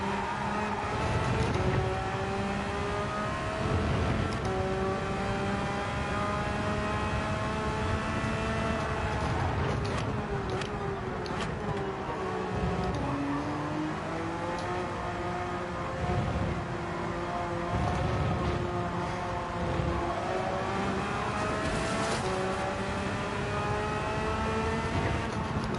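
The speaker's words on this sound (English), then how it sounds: "I love the sound of this amazing Porsche engine." A Porsche race car in Gran Turismo 7, running a GT4 Open lobby sprint race, revs and shifts up and down through its gears, its engine note climbing and falling steadily and loudly across a sustained stretch with no talk.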